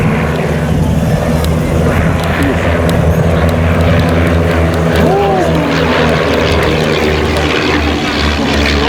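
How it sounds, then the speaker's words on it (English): Vintage de Havilland Chipmunk propeller aircraft fly at an air festival, their engines droning steadily and loudly throughout, with a faint voice under the engine noise. "the Havilland Chipmunks, flown today by John Higgins and David Pettis"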